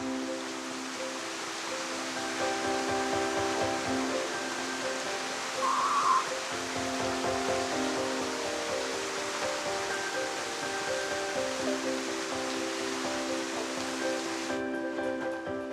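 Cascading waterfalls in the rugged Morialta bushland near Adelaide give a steady, soft broadband rush of falling water, heard from a distance beneath quiet tonal background music.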